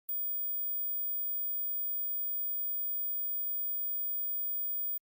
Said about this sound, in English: they can't hear this high frequency sound